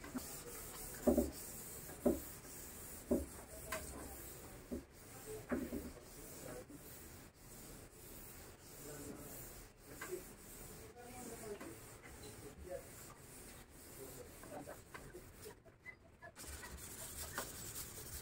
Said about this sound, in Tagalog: Lihain ulit natin gamit ng 1000 grit.